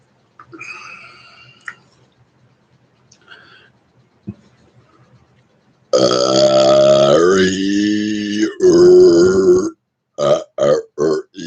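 A person burps loudly while picking their nose: a long, drawn-out, close belch with a wavering pitch, then a few short bursts, after some quiet mouth noises.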